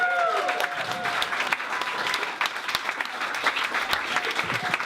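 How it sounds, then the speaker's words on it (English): Audience at a comedy club applauding a comedian, a dense burst of clapping from a crowd that carries on steadily from start to end, with scattered cheers mixed in. "Please clap your hands for Will Greene, everybody."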